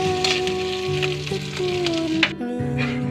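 Garlic frying in a pan for tinapa sizzles steadily and close, with a few light stirring scrapes and a steady hum underneath, no voices.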